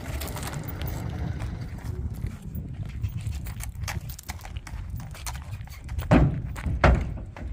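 A red roan sabino gelding's hooves thump and clip-clop on a trailer floor during loading, a steady muffled shuffle under faint outdoor noise, with two louder, sharper thuds near the end.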